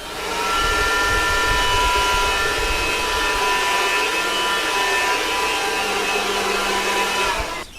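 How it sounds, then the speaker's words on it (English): A Milwaukee M12 cordless blower runs steadily and loudly, blasting sawdust off a board with a continuous whooshing roar and a faint motor whine that holds for several seconds before cutting off. "we're going to aim the blowers at that sawdust"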